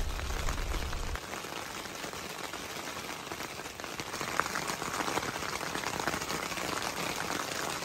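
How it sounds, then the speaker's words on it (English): Steady evening rain shower pattering on a camping tent, a soft, even hiss of drops close overhead with no talk, constant and fairly quiet throughout. "We set up camp and were relaxing in our tent when an evening rain shower arrived."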